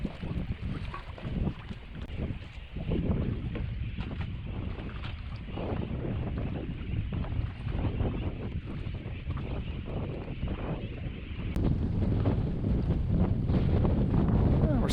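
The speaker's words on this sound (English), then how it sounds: "We're starting to pick up a little more wind now" Steady wind roars across a sailboat under way, buffeting close against the microphone with gusty surges that grow stronger toward the end, mixed with the wash of water.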